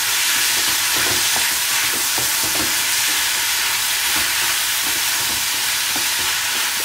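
Roughly chopped tomatoes and onions cook in a pan for malai kofta gravy, producing a continuous bright frying hiss with light, irregular stirring taps throughout.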